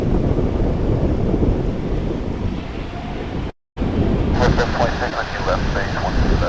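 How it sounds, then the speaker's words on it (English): A Sun Country airliner roars at DFW Airport under heavy gusting wind on the microphone, a broad continuous rush cut by a brief dropout, with a rising whine near the end. "That Sun Country plane we saw earlier"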